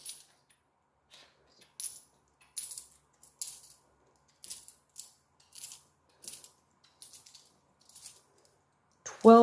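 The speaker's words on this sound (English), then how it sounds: "the noise from the coins." Coins clink and drop one after another as cash is counted for budget envelopes, a series of short, bright metallic jingles spaced by brief pauses, close and fairly quiet, ending with a louder thump.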